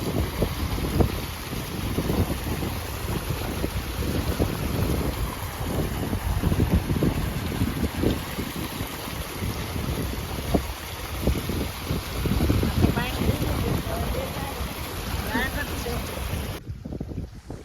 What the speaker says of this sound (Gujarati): તો મસ્ત પાણી આપણું જાય છે, મોટર ચાલુ છે.